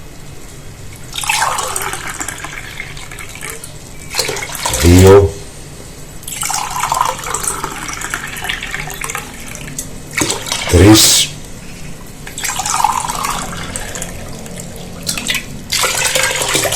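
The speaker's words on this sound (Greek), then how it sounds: "για τη μία κούπα πετιμέζι θα χρειαστούμε 4 κούπες νερό." Cups of water are poured into a pot for moustalevria, a traditional grape-must pudding made with petimezi. Two short splashing pours stand out between a voice counting aloud, with quieter running-water sounds in between.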